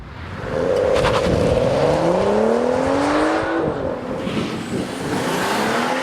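A car doing a launch-control start with an 8-speed automatic, the engine revving up loudly and climbing steadily in pitch through the gears, close and alone without talk.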